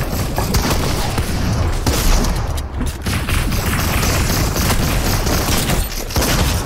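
Sustained heavy gunfire and booms in a Fortnite team match, a loud continuous barrage with dense overlapping shots and no clear talk.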